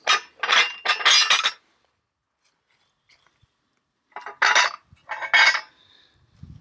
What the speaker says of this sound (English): It has some plates in the back that flip like this when you hit them.